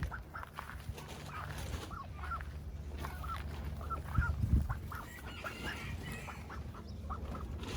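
Several ducks quack repeatedly in short bursts over a steady outdoor background, with one louder flurry of quacking partway through.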